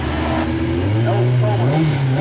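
A 500 horsepower DFC-powered race car at the Brighton Speed Trials sprint event, its loud engine droning steadily and rising in pitch as it launches, with a commentator talking over it throughout.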